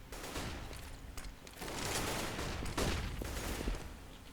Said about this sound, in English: Unbelievable shot there through the wooden paneling.